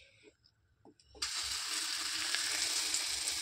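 Oats chilla batter hits a smoking-hot tawa and breaks into a loud, steady sizzle that lasts to the end, after a few soft kitchen clatters.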